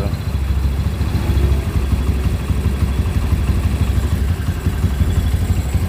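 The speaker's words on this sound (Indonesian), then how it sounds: "mesin sudah nyala" A rebuilt Honda CB motorcycle engine, still without its exhaust fitted, runs close by with a steady, rough, clattering idle that pulses evenly throughout.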